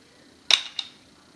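Dry-fire function check of a Timney AR-15 trigger: a crisp metallic snap followed a moment later by a softer click, close up in a quiet room with no speech.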